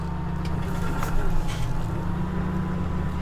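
A big tractor engine in Farming Simulator 17 drones at a steady low idle on a farm, a continuous rumbling hum heard close with no talking over it.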